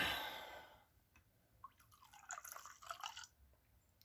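Simple Green cleaner poured in small amounts while cleaning placer and lode gold, giving faint, quiet splashing and dripping in a few short bursts after a near-silent start.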